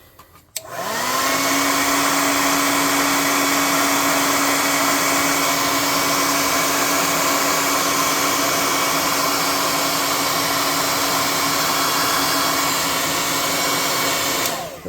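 A hot air blower switches on and runs steadily and loudly, drying paint on a small tabletop miniature, a constant close whirring roar that holds for the whole stretch before cutting off at the very end.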